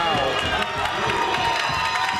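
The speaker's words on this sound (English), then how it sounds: "you can now feel the Chieftains crowd on our side really starting to pick things up" Home crowd cheering in a high school gym during a Tonganoxie Chieftains basketball game, a dense, loud swell of shouts and whoops with scattered claps and voices layered throughout.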